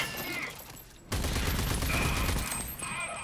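Gunfire in the video game Rage 2: a sudden loud burst of rapid shots that fills the scene for about a second and a half, then gives way to dense combat noise.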